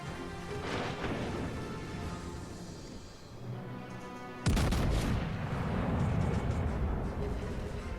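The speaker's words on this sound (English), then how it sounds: "You get a nice secondary fire on the Pommern here." Secondary guns firing from the ship Pommern in World of Warships Legends: dense rumbling booms roll on throughout, with a sudden heavy blast about halfway that sets off continued loud fire.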